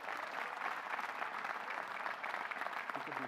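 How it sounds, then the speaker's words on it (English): Sustained applause from a commencement audience at a university graduation ceremony for special guests, a dense, even wash of many hands clapping at moderate distance, continuous and fairly faint. "Please join me in a round of applause for these very special guests"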